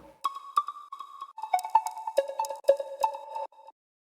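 A synth bass plays a short run of bright tonal notes through a ping-pong delay, each echo bouncing back in quick repeats that trail off, with no voices.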